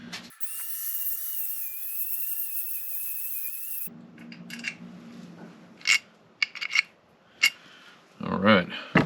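While reaming a brake hole on a 50-year-old Volvo 164E, a high-pitched power tool whines steadily for several seconds, then stops, leaving metallic clinks, scrapes and brief bursts of handling noise.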